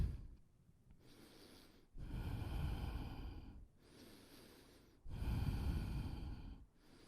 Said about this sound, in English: Deepen your breath here, lips sealed.